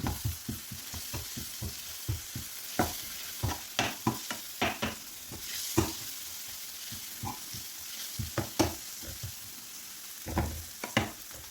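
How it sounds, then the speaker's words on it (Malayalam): Spices including coriander and pepper powder stirred and sautéed in a pan for an egg curry, with a soft sizzle under repeated scraping spoon strokes that come in irregular bursts, close and fairly quiet. "എല്ലാം കൂടി ഇട്ട് കൊടുത്ത് ഒന്ന് വഴറ്റി കൊടുക്കാം"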